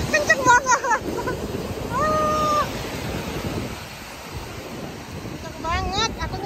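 Strong ocean waves and wind at a beach, a broad loud roar of surf with gusts buffeting the microphone, while people talk and laugh in bursts close by.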